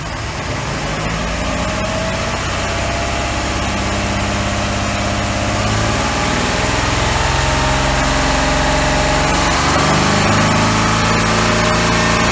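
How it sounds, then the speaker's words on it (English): A repowered 1990 Four Winns 180 Horizon's 4.3 OMC Cobra inboard engine runs loud and steady close by, its pitch climbing as the throttle pushes it toward higher RPM, with no voices over the continuous roar. "Let's run it through the RPM again. Into the higher revs and see if it backs down by itself without stalling out."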